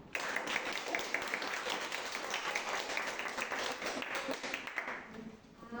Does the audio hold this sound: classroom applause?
yes